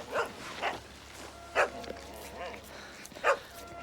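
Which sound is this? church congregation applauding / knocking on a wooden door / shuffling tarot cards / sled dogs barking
sled dogs barking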